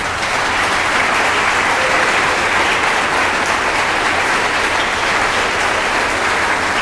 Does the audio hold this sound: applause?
yes